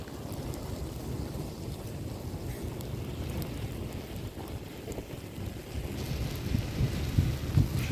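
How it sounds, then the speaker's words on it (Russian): Match heads burn in a bonfire built from a large box of matches, giving a dense, continuous crackling hiss that swells slightly louder toward the end, with no voices. "Шипение слышится от догорающихся головок."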